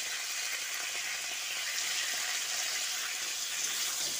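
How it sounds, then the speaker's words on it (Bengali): Cauliflower seasoned with salt and turmeric fries in hot oil with a steady, even sizzle that holds at the same level throughout, close and moderately soft, with no one speaking. "নুন আর হলুদটা দিয়ে ফুলকপিটা একটু ব্রাউন করে ভেজে নেব।"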